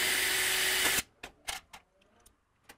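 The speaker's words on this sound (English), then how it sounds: "now I can drill the second hole" Power drill boring a second bolt hole through metal on a welding cart: a steady whine for about a second stops abruptly, followed by several sharp clicks and taps nearby.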